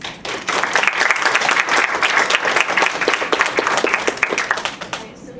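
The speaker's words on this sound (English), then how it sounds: "please join me in giving a round of applause to our speakers" An audience at a panel event on conservative feminism claps for the speakers, a full burst of applause rising quickly, holding for several seconds, then thinning out.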